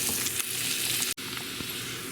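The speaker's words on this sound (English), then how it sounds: "Searing up the onions, cooking up the onions." Onions sear in an oiled pan with a dense, continuous sizzle and crackle. The sound is close and steady, broken only by a brief cut near the middle.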